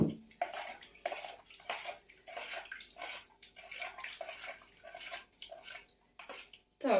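Cold boiled water trickles and splashes in short, uneven bursts as it is poured into dough in a home kitchen, faint and close, with soft clinks of dishes between pours.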